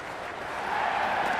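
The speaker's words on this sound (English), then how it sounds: "The crowd are making a heck of a lot of noise even before the first ball's been bowled." A crowd roars at an IPL cricket stadium during Mumbai Indians vs Kolkata Knight Riders before the first ball. The diffuse, fairly distant noise swells a little louder partway through.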